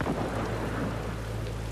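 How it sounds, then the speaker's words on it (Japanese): A thunderstorm with rain in The Last of Us Part II: steady, dense rainfall with a low thunder rumble underneath, continuous and fairly loud, with no voices. "もう嵐だね。"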